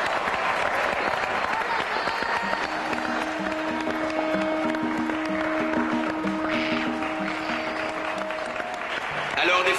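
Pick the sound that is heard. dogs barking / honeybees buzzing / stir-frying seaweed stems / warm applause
warm applause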